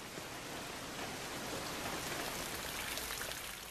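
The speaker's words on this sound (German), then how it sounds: "Regen und andere Niederschläge." Steady rain falls, a dense, even hiss of drops with no pauses and no voices.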